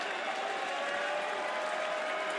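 A college baseball crowd at an NCAA Super Regional game in Georgia roars and applauds steadily after a one-out double, a dense, continuous wash of cheering with no breaks.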